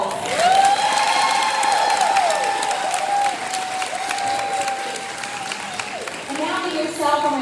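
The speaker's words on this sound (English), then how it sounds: "please join me in giving them one more round of applause." Audience applause for students at a school winter showcase, continuous clapping with cheers and high whoops layered over it, swelling again near the end.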